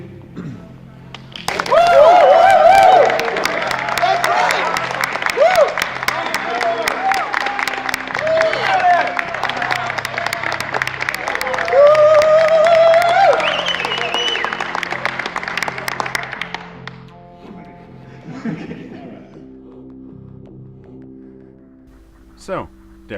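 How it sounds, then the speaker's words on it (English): Loud audience applause and cheering fill a large hall at EVE Fanfest, a dense steady roar of clapping and whoops lasting around fifteen seconds before cutting off, followed by faint murmurs and a few scattered sounds. "We can have applause and cheer."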